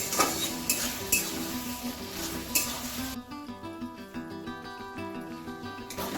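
Chopped tomato and ginger-garlic-green chilli paste sizzle in a frying pan while a spoon stirs and scrapes, with sharp clinks against the metal early on and a continuous fry underneath.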